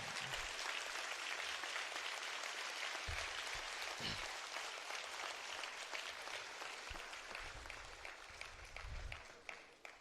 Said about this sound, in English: The clap should go on.